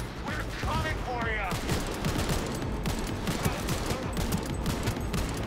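Rapid bursts of gunfire ring out in the video game Cyberpunk 2077, a dense, loud fusillade of repeated shots with mechanical clatter, continuing without pause as a voice speaks over the action.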